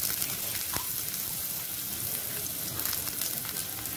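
Pieces of garlic and ginger frying in hot oil, a steady close crackling sizzle with fine popping that continues evenly without pause and without talking.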